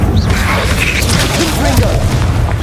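Incendio fire spell cast in the Hogwarts Legacy video game, a dense roaring, crackling burst of flame that fills the whole stretch at steady loudness, with a low rumbling undertone and no clear breaks.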